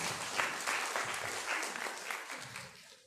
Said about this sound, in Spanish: Con un aplauso, por favor, para el joven expositor.